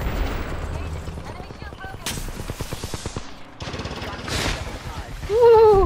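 Rapid gunfire in Apex Legends, bursts of close automatic shots in quick rhythmic strings with sharp impacts and a heavier blast near the end, loud and in the foreground with a voice speaking over it.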